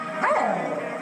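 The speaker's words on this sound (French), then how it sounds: "Mais ses petits-enfants et elle doivent tout d'abord dresser leur beagle, Taco." A beagle gives a single short, close bark that rises and falls in pitch like a yelp.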